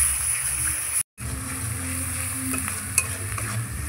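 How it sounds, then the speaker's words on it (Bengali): Spice paste with chilli powder being stirred and fried in a pot over a new outdoor clay stove, with a steady loud sizzle and scraping, one brief dropout, and a single sharp clink near the end. "এবার আমি মশলাটাকে ভালো করে কষিয়ে নেব।"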